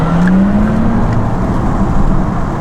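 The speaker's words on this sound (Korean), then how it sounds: "타이칸 4S는 이렇게 빠르게 달리는 것보다 약간 저속에서 천천히 다닐 때 그때 들리는 이 스포츠 이 사운드가 정말 일품이에요" A Porsche Taycan 4S electric sport sound hums at low speed, a steady low synthetic tone rising gently in pitch over road and wind noise, close and continuous.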